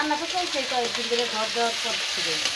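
Food frying in a pan in a village kitchen, a steady loud sizzle with stirring scrapes, heard close and continuous for the whole span, with no clear talk over it.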